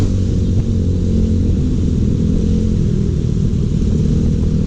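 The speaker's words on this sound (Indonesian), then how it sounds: "karena suara nggak begitu keras ya, suara knalpotnya" A steady, low motorcycle exhaust rumble fitted with a dB killer idles without a break, deep and muffled rather than loud, close by.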